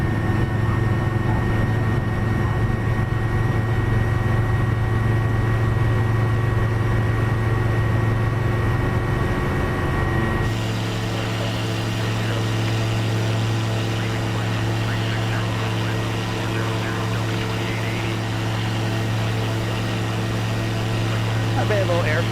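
A small single-engine propeller airplane in Microsoft Flight Simulator drones at a steady, loud pitch, with a shift in engine tone about halfway through, while someone talks over it.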